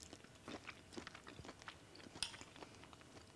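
Close, quiet chewing as a cook tastes North Indian prawn curry: soft, moist crunches and mouth clicks in an irregular rhythm, with no talking.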